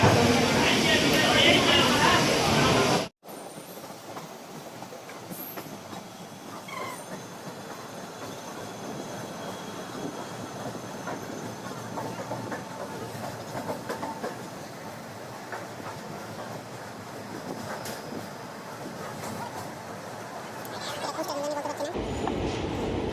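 A train rolls slowly through a small station in India with a steady low rumble and faint wheel noise, some distance off, while someone talks over it. A louder, brighter burst of noise opens the sound before a sharp cut.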